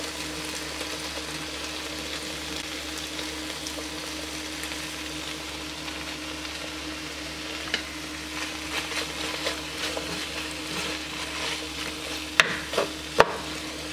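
Thinly sliced onions fry with browning beef for goulash, a steady sizzle and stir with a few sharp clinks of utensils near the end.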